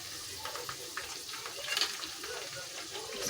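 Onions and green chillies fry in oil with a moderate, close sizzle, dotted with light stirring clinks and scrapes, steady with small bursts throughout.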